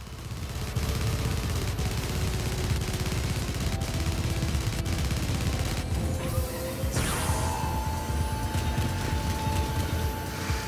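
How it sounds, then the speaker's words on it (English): Cannon fire in Gearshifters, a dense run of loud, rapid blasts and crashes over steady game noise for the whole stretch, with a sharp burst and a rising whine partway through. "the cannon seems to do damage on that one decently enough"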